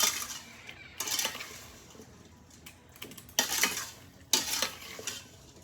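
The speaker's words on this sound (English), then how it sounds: "Give it a quick stir until everything is well combined" A utensil stirs blueberry jam with ground cardamom and cinnamon in a pot, producing four or five scraping, clattering strokes separated by short pauses over a low background hiss.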